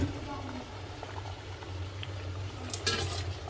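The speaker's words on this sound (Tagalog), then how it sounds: "Tapos ilagay ko na siya sa kumukulong tubig." Shrimp dressed with cooking wine simmer in a pot of boiling water, a low steady bubbling with faint hissing and a few small splashes near the end.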